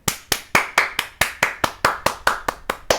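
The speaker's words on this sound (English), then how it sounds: "round of applause for Bitcoin." A single person claps hands twelve times in a steady, even rhythm, each clap sharp and close, with no other sound around them.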